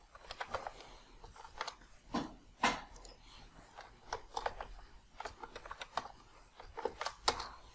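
Computer keyboard keys tapped in irregular bursts while a password is typed during Windows Server 2022 Active Directory setup, close and fairly quiet, with no voices.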